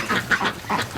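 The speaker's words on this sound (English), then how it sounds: "Oh, the ducks." Ducks quacking in a farm pen on a freezing night, a quick run of several loud, nasal quacks close by, overlapping in a rough rhythm.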